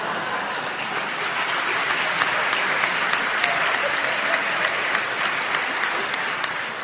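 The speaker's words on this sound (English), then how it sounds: "And he's clapping for himself there." Applause fills a church during a Holy Thursday Last Supper Mass, dense and loud, with hands clapping in a steady wash for several seconds.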